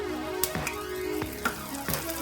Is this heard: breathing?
no